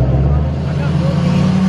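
Truck engine idling at a truck and car show, a steady low rumble throughout, close by, with people talking nearby.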